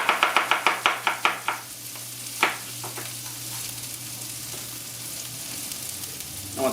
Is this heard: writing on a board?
no